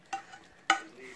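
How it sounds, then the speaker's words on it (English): Sauce is stirred in a green Echo pan, giving two distinct scraping clacks of the utensil against the pan about half a second apart, with a faint low simmer between them. "We'll get all this stirred up in here."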